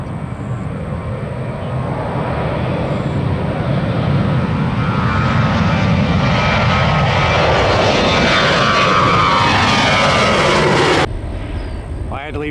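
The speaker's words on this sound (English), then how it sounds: "You got a JetBlue on short final." A JetBlue airliner on short final approach at Tampa International Airport roars overhead, a loud swelling engine rumble and whine that builds steadily before cutting off abruptly near the end, with a voice faintly audible.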